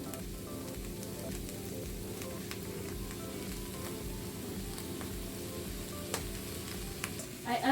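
Chicken stir fry with capsicums and soy sauce sizzles and crackles steadily in a pan, a continuous close hiss with a few louder pops and stirring scrapes near the end.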